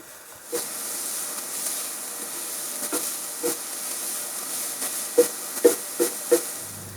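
Steady hiss and sizzle of onions frying in a pan for Bavarian meat patties, with a few soft clinks and taps of a utensil near the end.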